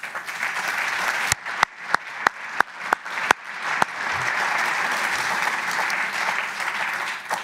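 Audience applause at a parliamentary evening event, starting with a few sharp separate claps that swell into steady, sustained clapping from a crowd in a hall.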